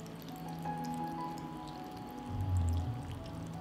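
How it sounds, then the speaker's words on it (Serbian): Water is poured into a pot over layered sarma cabbage rolls, a soft continuous trickle that swells to a fuller gush near the end, with no talking. "Poređala sam sarmu i sada ću sipati vodu."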